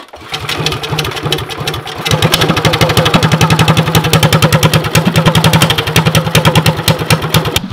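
A Predator 212cc small engine with a fresh spark plug idles while warming up, close and loud. A steady rapid chugging runs throughout with no talk, and a slight rise in level after about two seconds.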